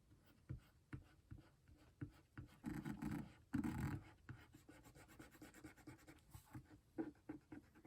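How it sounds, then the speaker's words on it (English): Gentle rubbing on the surface of a comic book cover (Incredible Hulk 181) during cleaning, faint soft scratchy strokes in an irregular rhythm, quiet and close with no talk. "It's just kind of a quick, gentle, light surface rub."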